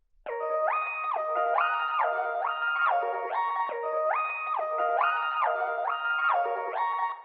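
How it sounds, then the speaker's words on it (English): An ambient synth lead sample drowned in Valhalla Vintage Verb reverb plays a repeating stepped melodic pattern, bright, smeared and sustained, steady in loudness and alone for the whole stretch. "I drowned this sound in reverb to make it sound like an ambient lead with, once again, Valhalla vintage verb."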